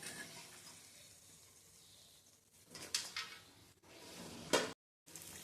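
Pea peel fritters frying in hot oil produce a soft, bubbling hiss with bursts of crackle, scraping utensil clatter as pieces are lifted out, and one brief silent gap.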